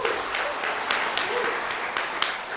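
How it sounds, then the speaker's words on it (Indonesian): Audience applause at a presentation event, a steady wash of many hands clapping throughout, with an occasional voice mixed in. "Kita tepuk tangan buat kita semuanya."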